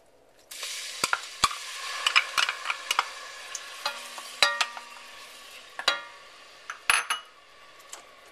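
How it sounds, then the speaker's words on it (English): Onion fries in hot olive oil in a pot, giving a steady soft sizzle punctuated by sharp clinks and scrapes of a utensil stirring against the metal. "And then what we'll do is add our onion,"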